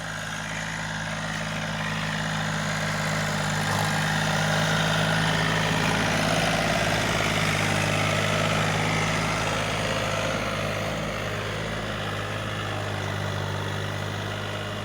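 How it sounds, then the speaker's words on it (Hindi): A John Deere 3036 N tractor with a tiller, working a field being readied for wheat, holds a steady, continuous engine drone with a low rumble and no breaks, close and loud throughout. "देखो टीलर भैया सही खींच रहा है"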